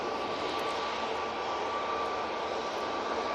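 A TUI airliner in plain white livery at Manchester Airport gives a continuous, loud jet engine roar with a faint steady whine, unbroken and even for the whole stretch.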